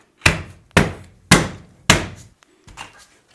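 Trim is torn out of the trunk of a 1967 Chevrolet Impala, heard as five hard, evenly spaced thumping blows, the last one weaker, close and loud with no talk.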